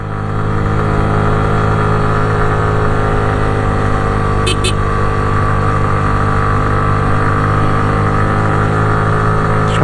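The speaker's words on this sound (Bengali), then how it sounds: "সেকেন্ড ইয়ারে উঠতেছে বাইক এখনো," A Yamaha R15 motorcycle climbs a steep, rough road to Sajek Valley in second gear, its engine droning loud and strained at a steady pitch, with a brief high chirp midway.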